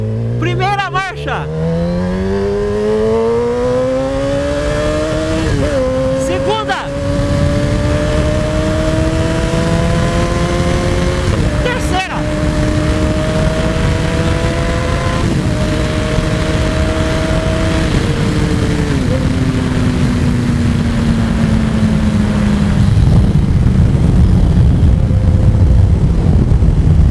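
A Kawasaki ZX-10R motorcycle engine revs up and climbs through the gears, pitch rising then dropping at each shift, loud and close throughout with a voice over it.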